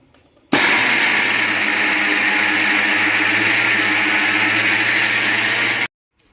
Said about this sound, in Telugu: ఇలాగే మొత్తం పప్పునంతటిని గ్రైండ్ చేసేసి పక్కన పెట్టేసుకుందాం.